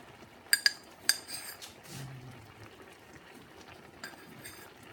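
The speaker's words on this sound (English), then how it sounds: "You need to add a spoonful of sugar or sweetener." A spoon clinks a few times against a pot while adding sweetener to a simmering batch-cook dish, with sharp, close metallic taps early on, then a quiet bubbling simmer and one more faint clink near the end.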